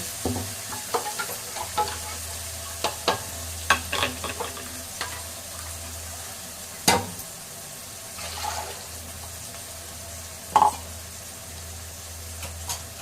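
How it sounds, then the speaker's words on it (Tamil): Ground tomato and curry leaf paste frying in a pan, a soft simmering sizzle with irregular sharp clicks and clatters of a spoon against the vessel, a low steady hum underneath. "இப்போ நம்ம அரைச்சி வச்சுருந்தோம் பார்த்தீங்கன்னா தக்காளியும் கருவேப்பிலையும் அதை ஊற்றிடுவோம்"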